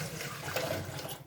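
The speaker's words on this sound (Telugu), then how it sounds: "వాటర్ పోసుకుందాం." Water pours steadily into a cooking pot for rasam in a short continuous splashing rush, close and moderately loud, with no voices.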